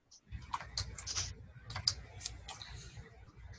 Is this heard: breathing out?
no